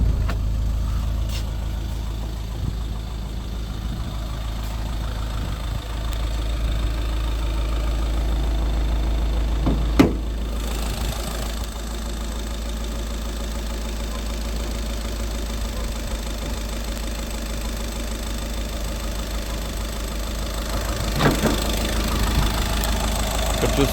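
A 2013 Volkswagen Vento Highline TDI diesel idles close by with a steady, clattery hum. The idle stays even for about twenty seconds, with a couple of sharp clicks along the way and no speech.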